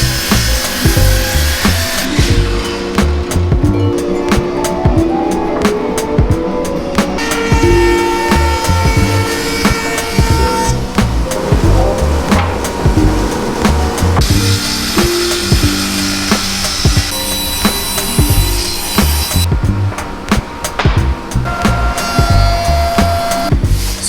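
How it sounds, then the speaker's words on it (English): A thickness planer feeding rough white oak boards, with a loud continuous mechanical whine and roar that shifts in pitch and intensity as each board passes through. "send it through the planer, and get it ready to start assembling for glue up"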